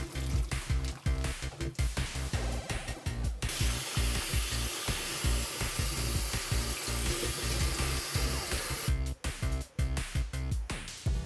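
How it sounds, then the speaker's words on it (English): Cooked quinoa drained and rinsed under a running kitchen tap: a continuous loud gush of water with clattering and scraping of a strainer or pan, heard close with no talk. "the quinoa is indeed ready, so we're just gonna drain it and rinse it out a little bit so it's not piping hot"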